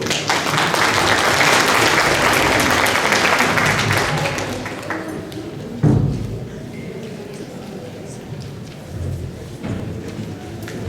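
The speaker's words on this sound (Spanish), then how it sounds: "Recibamos con un fuerte aplauso, por favor." Strong audience applause at a university graduation ceremony of Universidad Salesiana de Bolivia, dense clapping for several seconds that thins out midway, a thump near the middle, then scattered claps and hall murmur.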